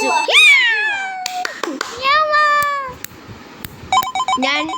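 A cat meows in strong, wavering calls near the microphone, mixed with an electronic ringtone-like melody and people talking.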